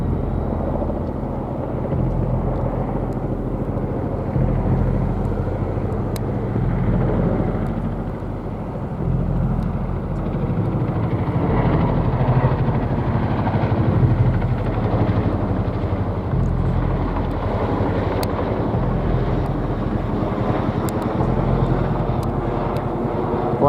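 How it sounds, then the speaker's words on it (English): A dual-rotor military helicopter flies overhead, producing a loud, continuous low rumbling drone with steady rotor thumping that persists for over twenty seconds, close and unbroken, with no talking. "And here comes a military chopper."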